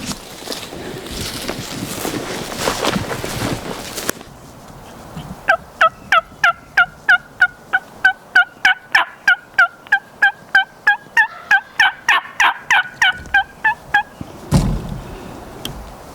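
Wild turkey gobbling at a spring hunting camp, a rapid run of some two dozen sharp, evenly spaced calls at moderate distance, preceded and followed by rustling outdoor noise and wind.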